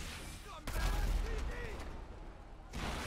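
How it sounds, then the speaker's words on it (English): A sudden booming video game explosion in GTA 5 with deep low rumble, followed by a crackling gunfire-like barrage and a second burst near the end, with voices in the mix. "I heard an explosion!"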